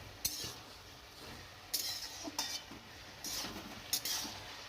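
Winter vegetables with salt and turmeric powder being stirred in a pot in a village kitchen, a spoon scraping and clinking against the pot in several quiet, irregular strokes with no talking.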